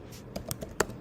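A few light, scattered keystrokes on a computer keyboard while entering a website address, soft and close with irregular spacing and one sharper final key press.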